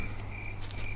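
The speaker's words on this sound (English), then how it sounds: "The crickets are most excited this night" Crickets chirp steadily at night in a game soundscape, a continuous high trilling over a dense, low ambient bed, moderately loud with no speech.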